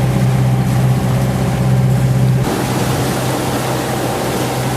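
Sailboat motoring on a calm sea off Fiji near Suva, its engine giving a steady low drone with a strong hum that shifts partway through, continuous and close, no voices.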